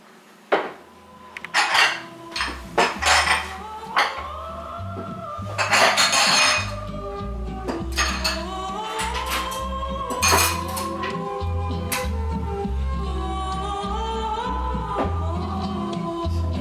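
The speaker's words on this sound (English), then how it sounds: "We're going to strain the noodles." Metal pot and noodles being strained in a home kitchen while cooking beef stroganoff: a run of close clanks and clinks of pot and utensils, then a steady rushing pour of water continuing to the end.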